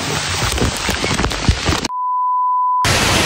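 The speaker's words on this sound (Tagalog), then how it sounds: "So wala pa rin tigil yung ulan." Heavy rain pouring steadily during Typhoon Carina amid flooding, a dense close hiss cut by a sharp electronic beep tone before the downpour resumes.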